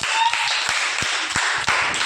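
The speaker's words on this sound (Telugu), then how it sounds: "క్లాప్స్." A group of children clapping in a classroom during an angles matching game, a dense, steady patter of claps over a noisy room, with faint voices underneath.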